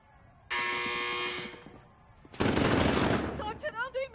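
Rapid automatic gunfire rattles in a video game for about a second, loud and close, after a long electronic buzzing tone, with voices chattering over the end.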